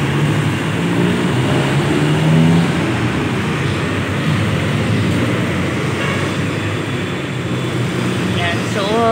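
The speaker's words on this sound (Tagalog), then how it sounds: "LRT sa taas." A light rail train runs along an elevated track above a roadside street, giving a continuous rumbling roar mixed with passing traffic. Faint voices come through underneath.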